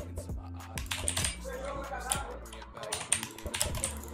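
Rapid computer keyboard clatter and sharp mouse clicks come up close during a Minecraft session, in uneven bursts of key presses with brief pauses between them.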